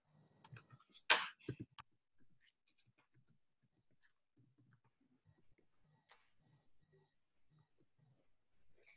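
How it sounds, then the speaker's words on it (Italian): Someone types an author's name on a computer keyboard, a quiet run of light clicks with one louder burst early on, close up in a silent room. "in questo caso inseriamo il nome dell'autore, Daniel Pennac"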